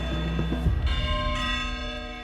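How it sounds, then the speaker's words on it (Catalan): Church bells toll in Albaida, Valencia, with a resonant strike and a long, ringing, overlapping hum that carries on as the tones decay. No voices are heard. "El mateix rellotge que marca el toc de campanes a Albaida"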